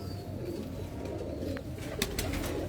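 Pigeons in Lahore give soft cooing calls over a murmuring background, with a few brief flutters or clicks near the end.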